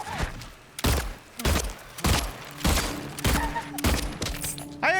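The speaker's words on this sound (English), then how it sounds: "I had to waste 6 bullets on you, asshole!" Gunshots in the video game Silent Hill 2 Remake: a run of about six sharp, punchy shots spaced roughly half a second apart, loud and close, with short ringing tails.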